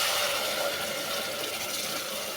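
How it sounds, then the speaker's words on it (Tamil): Ground mint water is poured steadily into a pan for mint pulao, making a continuous close-up splashing and filling sound with no break. "நம்ம அரைச்சி வச்ச புதினா தண்ணியை நம்ம இதில் ஊற்றிடணும்"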